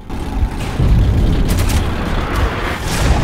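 An armored tank attacking in Metro 2033 Redux, a heavy rumbling barrage of booming blasts and engine roar, loud and sustained, with sharper impacts cutting through the low, dense din.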